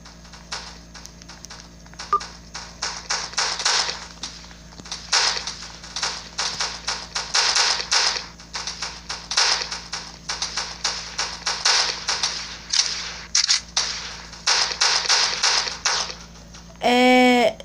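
Gunfire from the Block Strike video game crackles in dense, rapid bursts of sharp shots, nearly continuous with short gaps, ending in a brief electronic beep.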